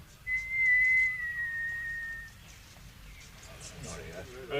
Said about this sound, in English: I'll give a whistle, if I may. Yes, go on. Whistle away.